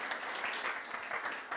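Brief burst of audience applause at an investment conference in Latin America, many hands clapping together in a steady, even wash.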